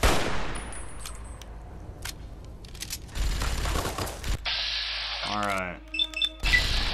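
Enemy gunfire in Fallout New Vegas: Lonesome Road, loud bursts of shots and rapid firing broken by short gaps, mixed with game beeps and effects, with a player talking over parts of it.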